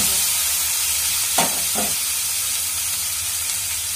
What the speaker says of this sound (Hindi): ये हमारा सब्जी अच्छा से ये फ्राई हो गया है